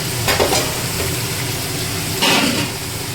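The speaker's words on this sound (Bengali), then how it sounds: "এইবারে এর মধ্যে দিয়ে দেবো এই যে ভাজা করা আমার আলুটা" Fried potatoes go into a hot pan of lemon chicken, which sizzles and crackles steadily up close, with two brief bursts of louder frying and stirring.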